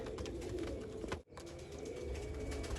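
Punnu-bloodline pigeons coo softly and continuously, a faint low burbling broken by a brief dropout partway through.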